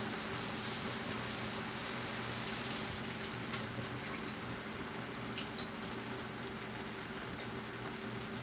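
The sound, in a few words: rinsing spinach under running tap water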